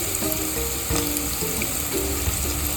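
Curry leaves, green chillies, crushed garlic and asafoetida sizzling in hot oil for a cabbage dish, a steady bright crackle with soft stirring clinks underneath, close and continuous without talk.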